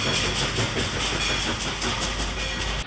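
A Norfolk and Western K2 class Mountain steam locomotive rumbles steadily close by, its engine churning with a faint rhythmic chuffing pulse and broad hissing noise throughout.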